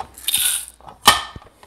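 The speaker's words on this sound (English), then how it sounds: "So we adjust the grinder setting to number 10" Adjustment ring on a coffee grinder used with a Rancilio Silvia espresso machine clicks and ratchets in two short mechanical bursts, close and fairly loud, with a faint tap between them.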